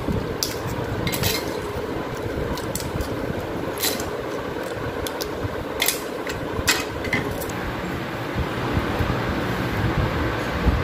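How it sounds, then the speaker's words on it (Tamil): A mixer grinder powders broken pieces of caramelised sugar with loud, close clattering and rattling over a steady motor drone, and a bright clink stands out now and then. "நம்ம மிக்சியில் போட்டு பவுடர் ஆக்கிக்கலாம்."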